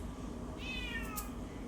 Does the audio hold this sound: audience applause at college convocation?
no